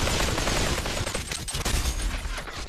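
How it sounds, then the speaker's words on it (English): Rapid gunfire in the VR shooter Population: One, dense overlapping bursts of shots that run loud and continuous through the whole stretch, with no clear talk over them. "stop shooting me"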